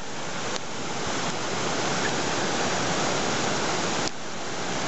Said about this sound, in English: Oh man, look at the river over here.